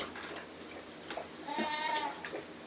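An Alpine goat gives a single short, wavering bleat, faint and at a distance over a quiet farmyard background with light ticking.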